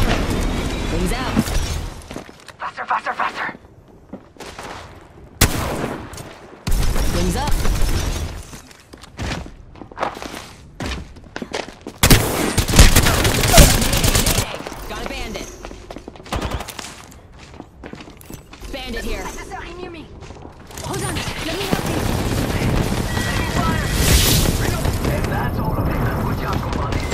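Gunfire in Apex Legends strikes the player in bursts of rapid shots and impacts, mixed with footsteps and loud action noise, while in-game voice callouts speak over the fighting.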